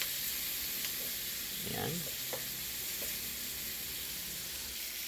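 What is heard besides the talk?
ingredients sautéing in a pan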